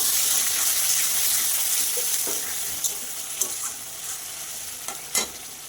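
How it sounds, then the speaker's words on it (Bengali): Spice-rinse water from a plate tipped into a hot frying pan and stirred for a papad curry, a steady broad sizzle with a few scraping stirs of the spatula, close and fairly loud, no voices. "মশলা থালা ধোয়াটা জলটা দিয়ে দিচ্ছি"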